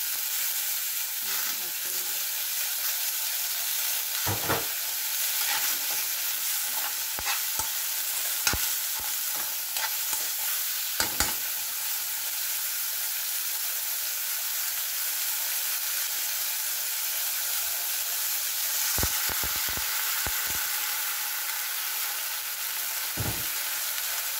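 Tilapia fries in a pan with a loud, constant hiss and spatter, broken by scattered clicks and scrapes of a utensil against the pan.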